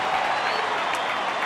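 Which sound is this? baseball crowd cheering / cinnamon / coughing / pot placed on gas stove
baseball crowd cheering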